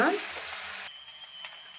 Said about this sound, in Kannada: ಈಗ ಆಲೂಗಡ್ಡೆ ಎಲ್ಲ ಹಾಕಿದ ಮೇಲೆ ನಾವು ಕಲಸೋಣ